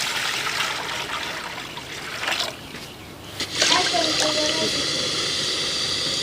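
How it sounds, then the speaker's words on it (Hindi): Water pours into a cooking pot for cleaning paya, a continuous rushing splash that dips briefly and then resumes louder and brighter, close by. "एक पतीला लिया है, उसमें हम पानी डाल देंगे।"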